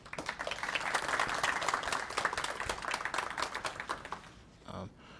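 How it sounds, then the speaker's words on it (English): An audience applauds an art award winner at a literary magazine and student club event, with dense, sustained clapping for about four seconds before it fades out, followed by a brief low murmur. "Okay, then give a round of applause."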